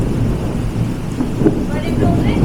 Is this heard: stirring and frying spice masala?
no